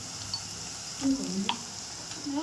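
Kathiyawadi-style okra curry being stirred in a pan, a soft continuous sizzle with a few scraping stirs and light clinks, close and fairly quiet, no talking.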